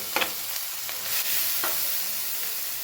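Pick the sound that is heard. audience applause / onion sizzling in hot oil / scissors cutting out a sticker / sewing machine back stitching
onion sizzling in hot oil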